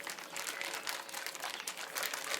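Plastic bag holding meat marinating with ground pepper, squeezed and kneaded by hand, giving continuous close crinkling and rustling in uneven bursts with no talk.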